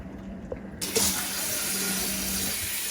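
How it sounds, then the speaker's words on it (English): Hot water pours steadily from a tap into a crock pot for cooking beans, a sudden gushing rush that starts after a brief pause and keeps flowing evenly, close and fairly loud. "now I'm just filling the crock pot with, I'm putting hot water on mine"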